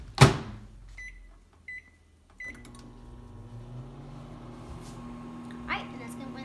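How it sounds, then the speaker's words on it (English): A microwave oven hums steadily while heating a ham and cheese sandwich, after a few short beeps and a door closing; the low drone runs on moderately loud, with a brief clatter near the end. "I'm gonna put it in the microwave"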